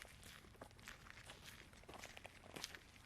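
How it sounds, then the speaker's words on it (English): Footsteps crunch steadily along a trail at night, a continuous gritty stride of close, moderately loud steps with no talking. "with each crunch of my father's feet."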